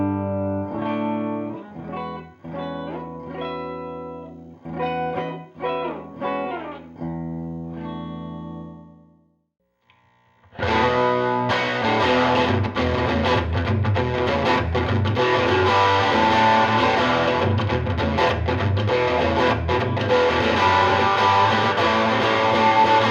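An electric guitar through a handwired tweed 5E8A amp: clean picked notes and chords ring out at first, then after a short pause the playing turns dense, loud and driven, continuing steadily to the end.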